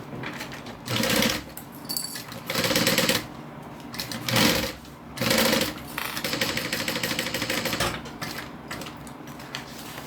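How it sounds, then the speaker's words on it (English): A sewing machine stitches the outside fabric of a bag onto a zipper, running in a steady, loud mechanical drone with several short bursts and pauses between the runs. "So we're going to sew the outside to the zipper."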